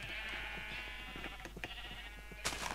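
A sheep in a video game bleats in one drawn-out, wavering call, fairly close over a quiet background, with a short sharp noise at the end.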